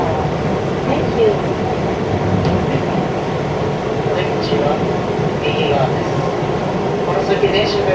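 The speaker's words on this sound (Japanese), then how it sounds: "この先電車が出ますのでお立ちのお客様もお気をつけください。" Izu Kyuko Resort21 train running on the Izukyu and Ito lines, heard from inside the carriage as a steady, loud rumble with light rail clicks, while a voice speaks over it.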